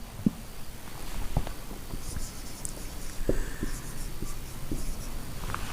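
A pen writes out a calculus limit example on paper, making soft scratching strokes and scattered taps in close, quiet, uneven bursts with no talking.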